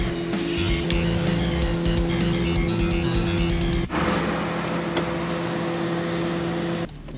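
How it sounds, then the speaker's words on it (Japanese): A Toyota Celica on a test drive, its engine droning steadily with a strong low hum and changing pitch from inside the cabin, loud and continuous throughout. "じゃあ、試運転ですね。"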